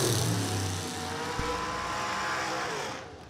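A drag racing car accelerates hard down the strip at a Moser Engineering Triple 12's event, a loud continuous engine roar that holds steady for about three seconds before fading slightly at the end, with no talk over it.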